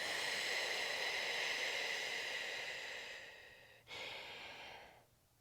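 Steady, breathy airflow of a pregnant woman breathing in and out during third-trimester birth-preparation yoga, one long close exhale that fades, a short sharp intake, then another fading breath, with no voices.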